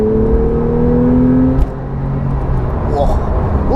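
A Porsche 911 Carrera T engine revs hard, a loud rising snarl that drops off sharply midway and settles into a lower rumble, with brief chattery blips toward the end.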